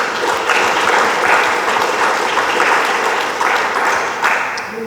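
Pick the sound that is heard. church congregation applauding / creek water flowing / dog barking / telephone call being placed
church congregation applauding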